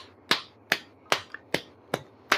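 A fist striking the palm of the hand in a pressure-point exercise, six sharp, evenly spaced slaps at a steady rhythm, close and clear with no talking.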